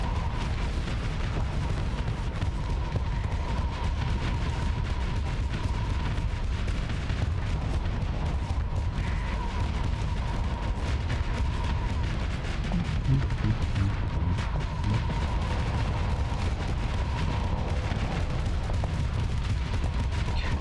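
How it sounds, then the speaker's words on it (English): A Starsector space battle rages with Star Wars mod ships, ion cannons and ship guns firing in a dense, continuous barrage of booming shots and blasts, loud and unbroken, with a steady humming tone threaded through. "Trying to use the ion cannons to shut down this gun,"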